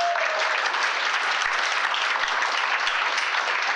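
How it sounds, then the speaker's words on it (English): An audience at a writing event applauds, with dense, even clapping from a roomful of people sustained at a steady level for a few seconds. "Give him a round of applause."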